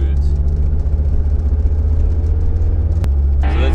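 A Jeep Grand Cherokee WJ with the 2.7 CRD diesel drives along with a steady, loud low engine rumble and road drone, plus a brief click near the end.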